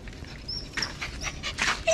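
Dogs being trained to behave and swim pant and whimper nearby, with soft breathy bursts and a few high whines over low background rumble.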